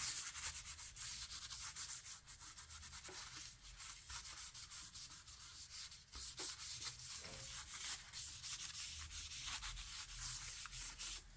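Steady cloth wiping and rubbing inside an HP EliteBook 840 G4 laptop with spill damage, a continuous close scrubbing texture with small pauses, no talking.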